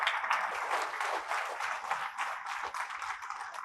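Audience at a Guru Purnima talk applauds in thanks, a dense, fairly soft burst of clapping from many hands that continues evenly throughout.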